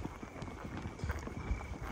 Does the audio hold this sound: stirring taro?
no